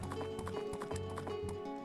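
A horse's hooves clip-clop in a steady galloping rhythm in the video game Majora's Mask, with repeated close, moderately loud hoofbeats over game music.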